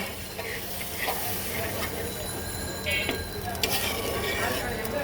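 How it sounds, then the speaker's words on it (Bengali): Spice paste and potatoes being sautéed in a pan for a Bengali-style fish curry, giving a steady low sizzle and hiss with faint scraping of stirring near the end. "এইবার মশলাটাকে আর আলুটাকে খুব সুন্দর করে কষাবো"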